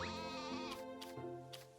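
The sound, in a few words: sheep bleating in video game Story of Seasons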